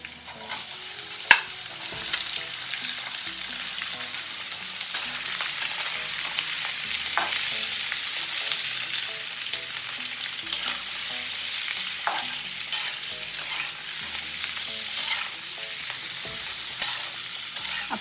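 Boiled potatoes with green chillies sauté in a pan, a loud, dense, continuous sizzle with occasional sharp ticks and scrapes from stirring, close up and with no talking.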